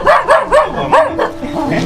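Dogs barking close and loud, a quick run of several yapping barks followed by softer whining yips trailing off, with no talking.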